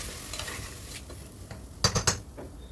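Ground dal goes into a pan over a medium gas flame, frying with a soft hiss while a spoon stirs and scrapes, ending in a couple of sharper clacks against the pan.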